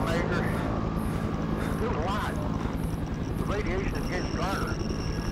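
A helicopter flies in the video game They Are Here, its rotor and engine roaring steadily and loudly throughout while a person talks over it.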